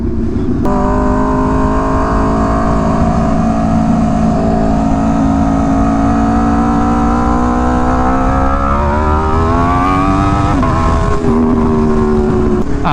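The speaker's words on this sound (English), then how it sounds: "I'm riding the Aprilia again" An Aprilia superbike motorcycle being ridden on the road, its engine holding a steady loud drone with harmonic tones that rise and shift as it revs near the end, with no talking.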